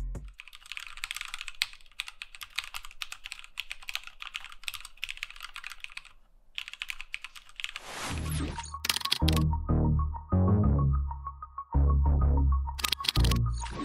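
Small skeleton-style mechanical keyboard being typed on, steady fast clatter of key presses for several seconds, then louder, heavier bursts of keystrokes alone and close up.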